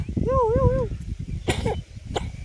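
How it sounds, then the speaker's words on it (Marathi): A short wavering vocal sound is followed by two quick, sharp coughs from a child, close by. "खोकला येतो पिल्लूला"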